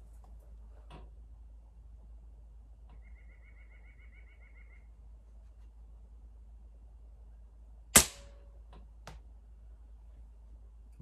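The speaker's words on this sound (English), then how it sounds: "Now here's the 5-yard shot with the air arms." Single sharp shot from an Air Arms air rifle fired at a target 5 yards away, a crisp isolated crack standing alone above a quiet outdoor background, with a fainter click about a second later.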